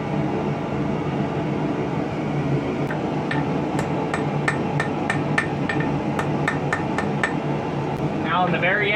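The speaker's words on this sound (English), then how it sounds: "Now I'm going to go to the end of my shank here and just tap it to cut it off" A hammer taps on a small hand-forged fishing hook shank to cut it off, giving a dozen or so bright, close metallic pings in an irregular rhythm over a steady roar of forge or shop noise, with a voice faintly heard.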